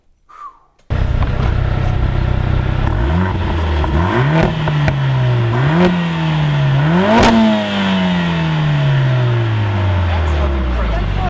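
Lotus Emira sports car engine starts abruptly and revs loudly up and down several times, close and sustained, with a sharp crack midway before settling into a falling drone.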